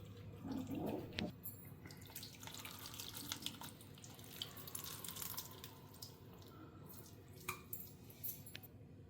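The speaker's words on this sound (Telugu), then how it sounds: "ఇప్పుడు మనం ఒక గ్లాస్ నీళ్లు పోసేసుకుందాం." A glass of water poured into a cooking mixture, a quiet close trickle and splash with soft dripping and small knocks over several seconds.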